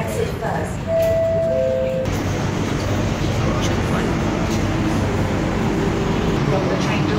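Hong Kong train at its doors: a steady loud rumble of the carriage and its ventilation, with a short two-tone electronic chime near the start before the doors.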